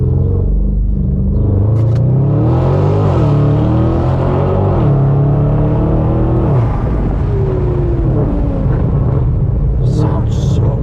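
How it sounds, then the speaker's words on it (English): A car with an aftermarket, non-stock exhaust revs at a tuning shop open house, its deep rumble rising and falling in repeated swells, loud and close throughout. "That's not stock, is it, that exhaust?"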